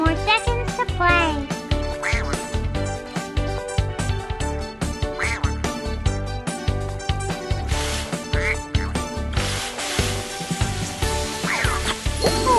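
Cartoon duck quacks from the kids' video game Baby Panda's Carnival, a Christmas amusement park level, repeating in quick bursts over bright, busy game music with a child-like game voice speaking.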